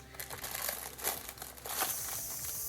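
A plastic decorating bag, the kind used for piping buttercream flowers, crinkles and rustles close by in irregular bursts of crackling handling noise, with no talking.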